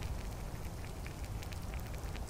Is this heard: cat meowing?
no